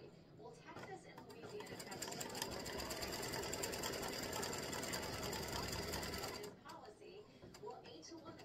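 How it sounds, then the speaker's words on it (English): An embroidery machine stitches a placement line for a baseball appliqué design, a fast, steady mechanical whir and needle patter that runs for several seconds and then stops, with a voice talking around it. "stitch the next one. Next placement stitch."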